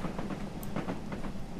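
A British Railways steam locomotive, a little 2-4-0 type, hauls a mixed train of Mark 1 and Mark 2 coaches with a Gresley carriage in Train Simulator 2020, giving a steady, fairly faint rumble with rhythmic clickety-clack beats.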